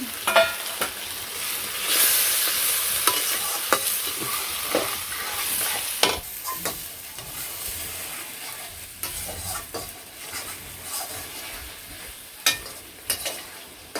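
Spices and potatoes for a snakehead fish curry sautéed in a pan, with a few spoonfuls of water added, soft sizzling under repeated scraping and stirring strokes of a spatula, close and steady with sharp clicks of utensil on metal.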